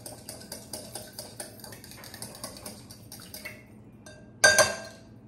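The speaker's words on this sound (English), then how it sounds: "Gonna grab a fork and we're gonna kind of mix it all together like that." A fork beating lemon loaf cake batter with lemon zest in a bowl, quick regular clinking taps against the side, then a louder sharp clatter near the end; no talking.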